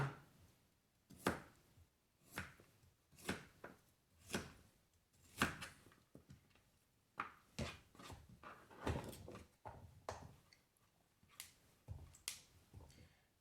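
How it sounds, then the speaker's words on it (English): A knife chops vegetables for a simple stir fry on a cutting board, with about a dozen crisp, close cuts landing in an uneven rhythm, some spaced apart and some in quick pairs, with no talking. "Go ahead and cut this up."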